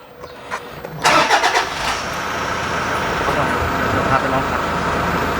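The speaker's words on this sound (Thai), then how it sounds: "ฟังเสียงเครื่องกันด้วย" A 2013 Toyota Fortuner 3.0 V 4WD diesel with manual gearbox cranks and catches at about one second, then settles into a steady, fairly loud clattering idle for the rest of the clip.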